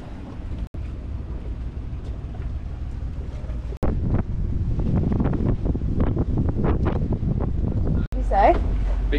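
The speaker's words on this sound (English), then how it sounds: "Be good to know how much wind gust that is, because that's like big." Strong wind gusts buffet a sailboat out on open water, a loud, roaring rumble that swells and holds with rushing water and hull noise underneath, while people speak over it.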